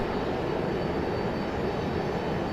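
A US Airways jet in retro livery at Raleigh-Durham International Airport gives a steady, broad engine roar that holds at an even level throughout, with no voices.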